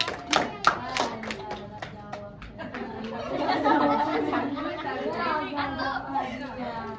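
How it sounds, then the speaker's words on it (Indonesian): A classroom gives a short round of applause for a student during a microteaching lesson: a few sharp claps first, then scattered clapping that blends into chatter and laughter from the group. "Kasih tepuk tangan buat Alia"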